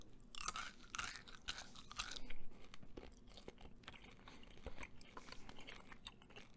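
Gum is chewed very close up in a quiet room, with soft, wet smacking and crunching bites repeating in an irregular rhythm.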